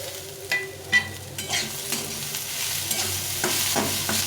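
Cauliflower pieces fry in a little oil with coriander leaves, a close sizzle broken by several sharp scraping stirs of a spatula, with soft music underneath.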